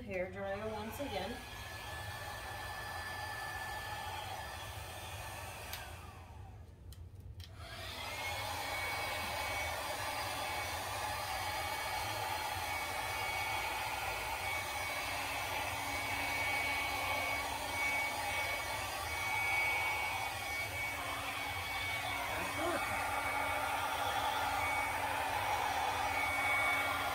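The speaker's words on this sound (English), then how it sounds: "And we are using the hair dryer once again." Hair dryer blowing steadily to spread paint for an earth-tone painting, a continuous whirring hum that cuts out briefly near the start and then runs on unbroken.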